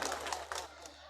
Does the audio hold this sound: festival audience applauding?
yes